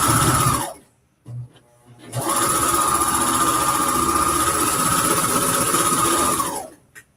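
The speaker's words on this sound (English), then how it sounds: "So all I'm doing is just serging without cutting into the fabric." A serger overlock machine stitches along fabric edges without trimming them, with a short burst, a pause, then a long, loud, steady whirring run that winds down at the end.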